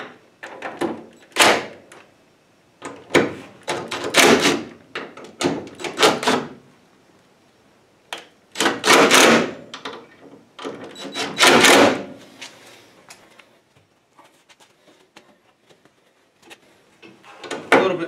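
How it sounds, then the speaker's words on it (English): Door hinge bolts on a 1968 Mustang being loosened with a ratchet give bursts of rapid clicking and metallic ratcheting, close and loud, separated by short pauses. "loosen up this lower bolt on the upper hinge, and then loosen these two bolts"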